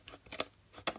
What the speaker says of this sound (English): I'm going to use a pair of scissors just to separate into two pieces